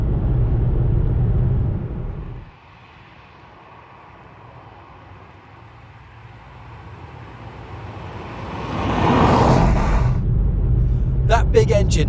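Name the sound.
Ford Mondeo ST220 3.0 V6 engine driving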